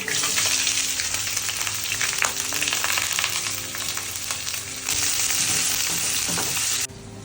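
Onions frying in a pan give a steady, loud sizzle throughout, with occasional stirring scrapes and a brief drop in intensity near the end.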